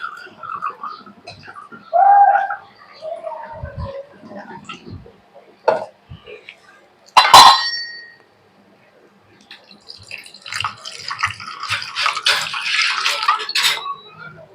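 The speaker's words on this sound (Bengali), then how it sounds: "এখন একটু জল বদলে দেবো এর মধ্যে" Water is poured off soaked rice in a pot for Bengali panta bhat, with splashing bursts and a longer, steadier pour toward the end, heard close up with faint kitchen clatter.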